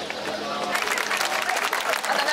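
Steady applause rises from a crowd at a Japanese Constitutional Democratic Party street speech, the clapping dense and fairly close, with crowd murmur and voices underneath.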